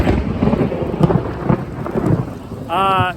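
A heavy thunderstorm, with rolling thunder rumbling under a dense, steady downpour of rain; a brief tonal sound cuts in near the end.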